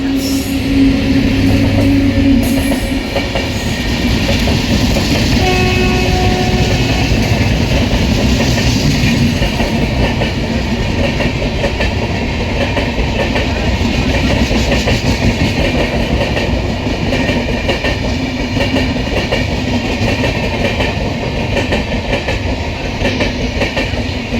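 An Indian express passenger train with LHB coaches rumbles past close by, a loud, steady roar of wheels and carriages with faint clattering, lasting throughout without pause.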